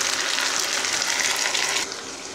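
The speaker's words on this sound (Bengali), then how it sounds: "এখন আমি এই আদা রসুন পেঁয়াজ আর টমেটোর যে পেস্ট বানিয়ে রেখেছিলাম সেটা দিয়ে দিলাম।" Ginger, garlic, onion and tomato paste hits hot oil in a pan with the onions already fried, giving a loud, steady broadband sizzle that drops slightly in level near the end, with no talking.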